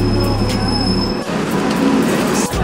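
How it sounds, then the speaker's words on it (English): An airport people-mover train carries passengers to baggage claim, its rumbling run and squealing wheels steady and loud throughout, with a sharp shift in the rolling noise midway. "Wow, you take a train to baggage claim?"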